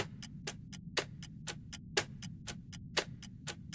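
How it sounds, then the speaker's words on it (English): A clock in an indie horror video game ticks quickly and steadily, about four sharp ticks per second with alternating louder beats, close and clear over a low murmuring background with no talk. "That clock's going a lot faster than before."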